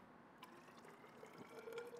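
Liquid poured for an apple brandy flavor infusion, a soft close trickle that builds into a brighter filling stream toward the end.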